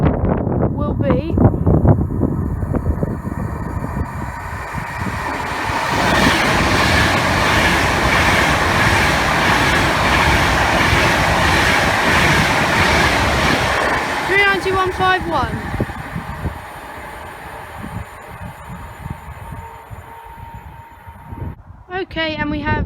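A train on the West Coast Main Line at Cheddington, running from Glasgow to London at moderate speed, builds into a loud, sustained rolling rumble with wind buffeting, then fades, with speech before and after.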